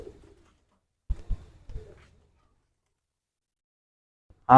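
Several low, soft coos from pigeons shut together in a single room sound in a quiet space, a few short murmurs close together, before a voice begins at the very end.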